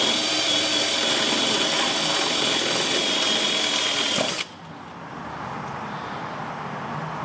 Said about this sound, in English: put a drop or two of oil on the tip of the drill bit